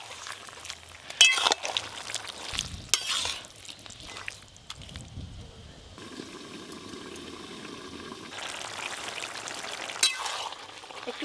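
Malabar spinach (pui shak) ghonto simmering in a pan, salted and lightly sweetened, gives a steady bubbling hiss broken by a few clattering stirs and scrapes, with louder bubbling in the final seconds.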